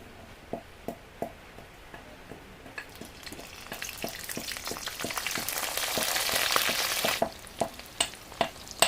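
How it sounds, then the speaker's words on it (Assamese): Dried fish is dropped into hot oil in a home kitchen, and a sizzle builds to a loud, crackling hiss, then fades back. Regular spatula taps and scrapes sound throughout. "তেল গৰম হোৱাৰ লগে লগে আমি এইখন শুকান মাছটো দি দিম"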